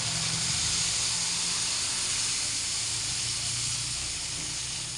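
Broth poured into a hot pan of fish kinamatisan gives a steady, loud hiss that holds for several seconds and fades slightly toward the end, with a low background rumble.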